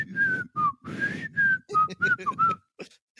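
A person imitates a Bigfoot whistle with a series of short, clear whistled notes, each one sliding in pitch. The notes are close and come in an uneven rhythm with brief gaps between them.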